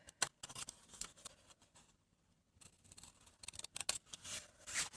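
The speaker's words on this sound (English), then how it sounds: "just basically cut your tabs inwards slightly so it's easier for you to fold" Scissors cut the tabs of a cardboard fold-away wedding bouquet box, with irregular close snips and paper rustles and a brief quiet pause midway.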